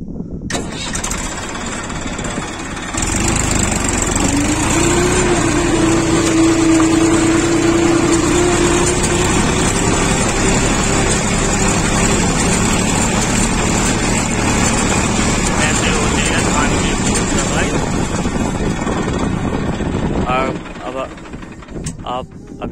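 Massey Ferguson 241 DI diesel tractor pulling a cultivator through a paddy field in second gear, its steady, droning engine chugging loudly and continuously, with people talking faintly over the noise.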